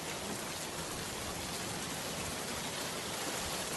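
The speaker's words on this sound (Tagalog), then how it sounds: "Magpapatila lang ako ng ulan." Steady, dense rain falls outside, a loud continuous wash of hiss with no pauses or voices.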